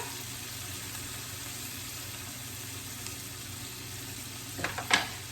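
Food with Himalayan salt frying gently in a pan gives a soft, steady sizzle at low level, and two brief scraping clicks come near the end.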